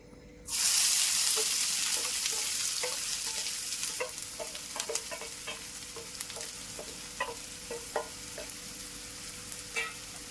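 Chopped onion frying in hot oil in a kadai until brown, a steady bright sizzle starting abruptly after a brief quiet moment, with intermittent soft clicks from stirring throughout.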